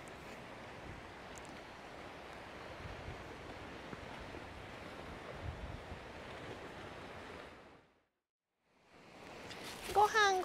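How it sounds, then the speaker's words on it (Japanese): Strong wind gusting at a seaside cape on the Minami-Boso coast in early April, a continuous roaring rush with surf-like wash that drops out briefly near the end before returning. "すごい風が爽やか。"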